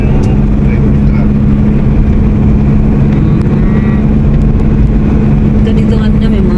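A truck engine drones loud and steady at close range while driving near a ranch, a continuous low rumble with people talking faintly underneath.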